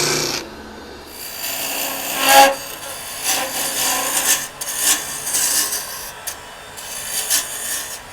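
Mesquite wood on a lathe being cut with hand tools, a close rasping scrape in uneven bursts and strokes over a low background hum, with no talk.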